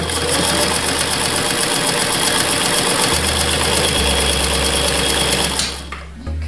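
A Singer 128 sewing machine stitching through four layers of fabric, running with a loud, steady mechanical whir and rapid needle clatter close up, then slowing and stopping near the end.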